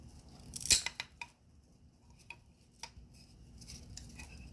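A straight, flat cut through rubber fuel line hose for a custom K-swap fuel line, giving one sharp close snip followed by a few faint clicks and handling noises.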